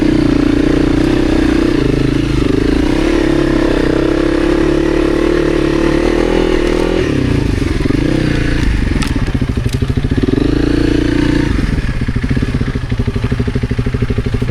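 Off-road motorcycle climbing a muddy hill, engine loud and close, revving steadily then stuttering with crackles and clatter as the throttle drops and picks up again; no talk.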